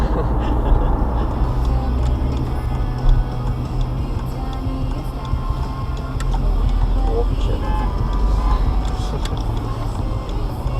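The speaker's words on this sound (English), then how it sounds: "Car was going very fast around that roundabout" Steady road and engine noise heard from inside a car as it drives fast around a roundabout. The rumble is loud and continuous, with faint ticking and brief bumps over the low drone.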